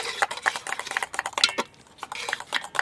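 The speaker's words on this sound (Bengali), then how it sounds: "সবজি সেদ্ধ হয়ে গেছে, এবার এর মধ্যে মাংসগুলো দিয়ে দেবো।" Chicken pieces go into a pot of boiled vegetables with a busy run of metallic clinks, scrapes and soft clatters from a utensil against the pot, close and irregular, with no talking.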